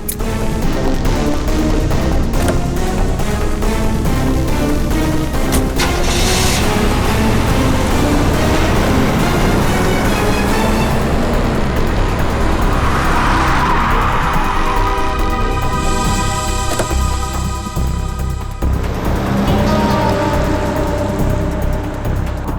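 A car engine runs and revs as the vehicle pulls away, a steady loud drone throughout with shifting tone as it drives off, mixed with dramatic background music.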